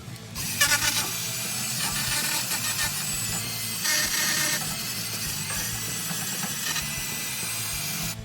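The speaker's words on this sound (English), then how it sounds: "I always tend to clean up the hubs just with a wire brush attachment in a drill bit" A power drill with a wire brush attachment grinds steadily against a Honda Beat's rear brake hub, a continuous harsh whir with scraping surges, close and loud throughout.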